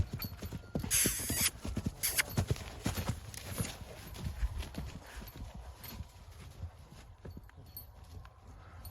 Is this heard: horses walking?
yes